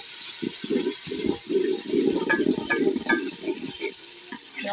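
Water splashing into onions frying in a pan for aloo chana pulao, a loud steady hiss and sizzle with bursts of bubbling and stirring, no voices.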